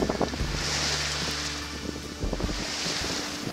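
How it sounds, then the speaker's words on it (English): Steady wind rushes past with sea wash and a low droning hum of a sailboat under sail off Scotland, gusting in constant, full noise. "that blissful sound that I enjoy, known as the sails are up, and we're finally sailing"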